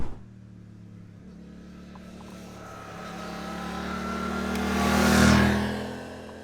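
A Suzuki GSX-8TT motorcycle engine drones steadily while riding, swelling louder toward the end as another vehicle seems to pass close by, with wind noise throughout.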